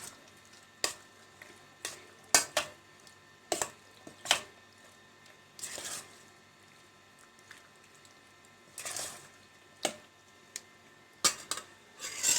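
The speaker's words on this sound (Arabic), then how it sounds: "هقلب بس كويس عشان اتاكد ان البيض جه على كل قطع الفراخ" Raw chicken pieces are stirred with egg in a bowl in a home kitchen. Sporadic spoon clinks and soft wet squelches come up close, spaced irregularly with quiet gaps, and no one speaks.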